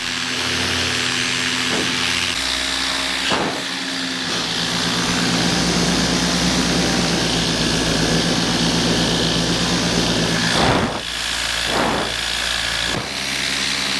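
A paramotor engine runs in flight during a winter test in sub-zero conditions: a loud, steady propeller drone with constant roaring hiss, plus occasional brief wind bursts and shifts in pitch.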